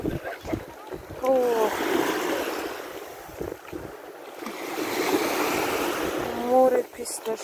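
Sea surf after a storm rolls in as a steady broad wash of waves with splashy surges, with voices talking over it throughout.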